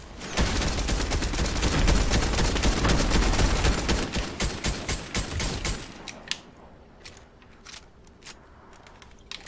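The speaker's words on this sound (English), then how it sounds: "Somebody else shooting at me. Who's shooting at me?" Dense, rapid gunfire from a shooter video game, a loud sustained burst of overlapping shots for about six seconds, then thinning to scattered single reports that trail off quieter toward the end.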